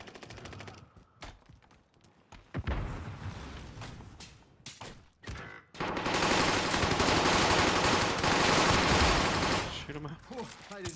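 Bursts of rapid automatic gunfire in a video game, scattered shots early on, then a long loud sustained volley, with players' voices chattering in between.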